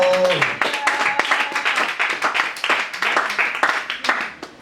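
A church congregation claps and applauds together, dense and steady hand clapping with a speaking voice at the start.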